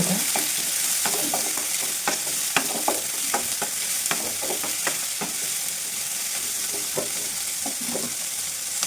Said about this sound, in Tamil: கட் பண்ணி வச்சுருக்கிற வெங்காயம் போட்டலாம்.